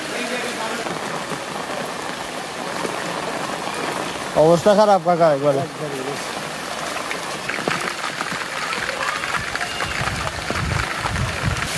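Steady rain pattering on a surface throughout, with people talking briefly over it partway through.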